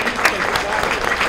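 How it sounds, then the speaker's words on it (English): Audience applause at a Chamber of Commerce annual meeting honouring an award recipient, a brief burst of dense clapping from a room of people, steady and fairly loud throughout. "Give me a round of applause."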